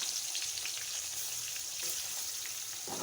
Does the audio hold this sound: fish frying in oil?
yes